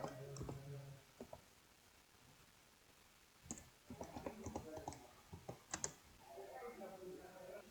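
Computer keyboard typing during a Windows server domain setup: scattered quiet key clicks and short bursts of taps, with a voice talking at the start and end.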